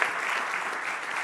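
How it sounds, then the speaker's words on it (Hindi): A crowd breaks into loud, continuous applause welcoming Indian Home Minister Amit Shah at a live televised event, a dense wash of clapping heard briefly. "जोरदार तालियों के साथ स्वागत कीजिए देश के गृह मंत्री श्री अमित शाह का"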